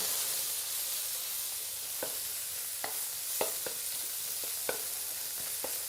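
Yakisoba noodles stir-fried over high heat in a flat frying pan, a constant close sizzle and hiss broken by scattered scraping stirs of the spatula.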